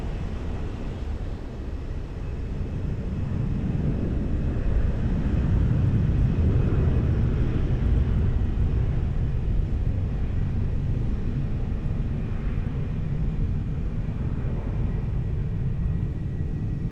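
Airbus A320 airliner rolling on the runway at Lisbon Airport, a distant, steady low jet rumble that swells slightly and holds as a broad continuous roar.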